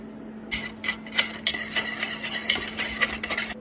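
A spoon stirs and mixes ingredients in a bowl, giving a steady series of soft scraping taps and clinks, close and fairly quiet over a low, constant hum.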